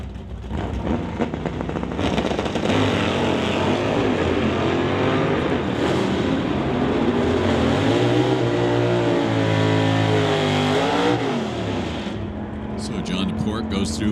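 At a drag strip, a 1977 Chevy Camaro and a 1962 Chevy Bel Air race, their engines roaring continuously and loudly as revs climb and fall, with an announcer talking over the racket.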